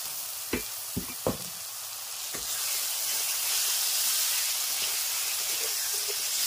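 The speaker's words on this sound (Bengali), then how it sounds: "মশলার সঙ্গে সেদ্ধ ছোলাগুলো ভালো করে কষে নেব।" Boiled chickpeas are fried and stirred into masala for restaurant-style masala chole: a few sharp spoon knocks at first, then a broad sizzling hiss that swells and holds steady, close by with no speech.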